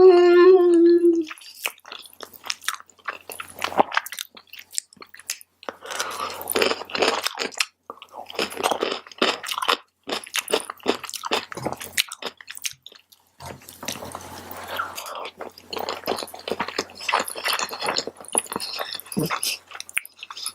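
Close mouth sounds of someone eating tofu vegetarian fried rice with smoked spicy sriracha tofu, with irregular soft chewing and crunchy bites in bursts and brief pauses between them, no talking.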